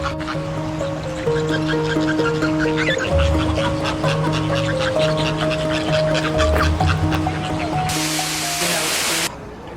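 Ducks quack repeatedly at the Temaikén Biopark zoo in Argentina, over a busy background of chattering people, with a burst of rushing noise near the end.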